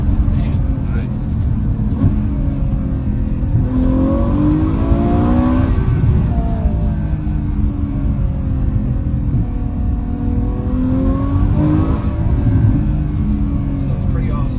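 A Ferrari F12 Berlinetta V12 with a Valvetronic Fi exhaust rumbles deeply from inside a heavily sound-deadened cabin, its revs rising and falling in several sweeping pulls under a steady low drone, with voices in the background.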